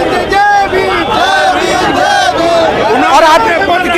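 A large crowd of street protesters shouts and chants together, loud and dense throughout, with overlapping voices forming a continuous roar of massed slogans.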